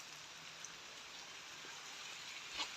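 Steady rain falls outdoors during the Punjab monsoon, a dense, even hiss with close droplet patter throughout and a brief sharper splash near the end.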